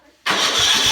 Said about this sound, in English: we're just going to see if it starts now